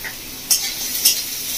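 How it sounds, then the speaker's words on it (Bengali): Onions frying in a pan with turmeric and Kashmiri chili powder, a steady soft sizzle with two brief scraping stirs of a spoon, close by and alone. "ভালো করে মশলা মিশিয়ে পেঁয়াজটা ভেজে নেব"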